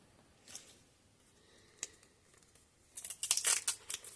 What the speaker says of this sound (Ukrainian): І відкриваємо цей пакетик.